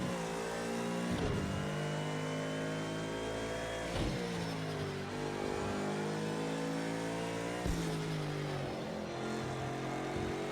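A McLaren race car engine in Project Cars 2 roars steadily through a lap, climbing in pitch and dropping sharply at each gear change, loud and close with no voices.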